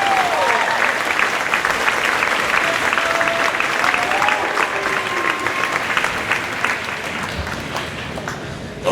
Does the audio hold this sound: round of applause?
yes